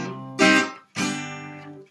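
Guitar played tuned down half a step, a riff: two strummed, bright chord hits, the second ringing out longer, close and clear with no talking.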